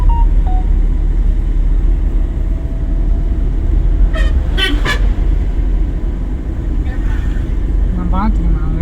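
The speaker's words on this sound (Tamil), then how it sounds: "ஹார்ன் அடிங்க" Car horn honking during a driving lesson on the road, a few short toots rising over the loud continuous engine and road noise inside the car, with people talking.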